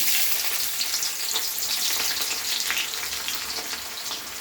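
Chopped onion sizzles steadily in hot oil, a dense, loud, even hiss with a slight crackle that stays constant throughout, no voices.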